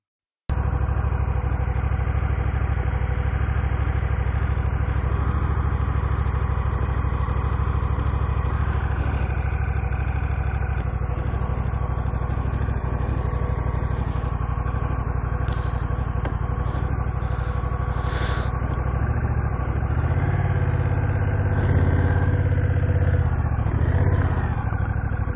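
A Honda CMX 1100 Rebel motorcycle, with no gear or clutch lever, idles steadily and close by, a constant mid-pitched throb with slight mechanical clatter that holds without change for the whole stretch.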